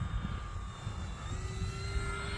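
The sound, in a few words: E-flite F4U-4 Corsair RC airplane flying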